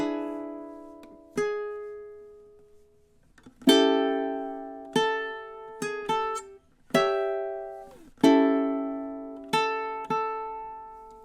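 Ukulele playing measures 17 to 20 of a Roaring Twenties anthem: crisp plucked chords and notes ringing out in syncopated bursts, each decaying before the next, close and clear with no talking.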